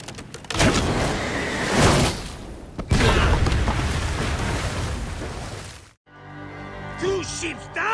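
Ships explode in Assassin's Creed Origins with loud, heavy booming blasts and rumbling debris that fill several seconds before cutting off, followed by quieter sounds as voices speak.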